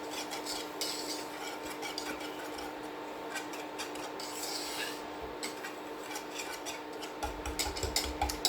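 Cornstarch mixture stirred in a bowl for an Amish butterscotch cream pie, a steady scraping rub of utensil against the bowl over a constant background hum, with a few louder knocks near the end.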